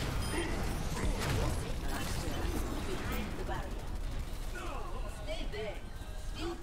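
Shots ring out during a video game match as a cluster of sharp cracks and mechanical clatter, set against a busy, noisy game background while players talk over it.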